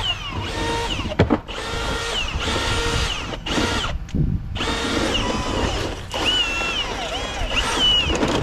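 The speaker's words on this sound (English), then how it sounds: "I got this 18-inch 7/16 extension bit, so I can go all the way through the rim joist here." A power drill with an 18-inch 7/16 extension bit bores through a rim joist, loud close whirring in repeated bursts with short pauses between pushes.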